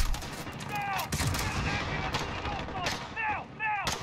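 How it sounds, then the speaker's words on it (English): Gunfire from a Call of Duty: Modern Warfare campaign mission, a dense run of shots and bursts that continues throughout, with sharp chirping ricochet or whiz sounds coming in intermittently. "Getting shot at from something."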